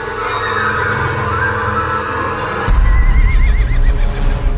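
Horses whinny amid a frantic, dense sound-effect bed for a Lovecraft horror audiobook, a wavering neigh rising over heavy rumbling and thudding kicks that swell loud partway through.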